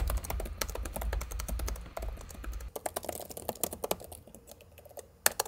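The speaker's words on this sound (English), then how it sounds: "The key presses land with a satisfying thud sound, and there's no flex anywhere on the keyboard deck." Fingers type rapidly on the keyboard of an MSI GE66 Raider gaming laptop, a dense run of quiet, muted key taps heard up close with a low hum underneath early on.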